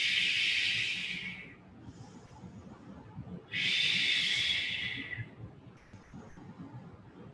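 During a mat Pilates session, two long audible breaths hiss close to the mic, each a sustained airy exhale lasting about a second and a half, separated by quiet pauses.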